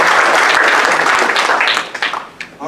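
An audience at a magic show claps in a dense burst that rises to a steady roar, then thins into scattered claps as it dies away.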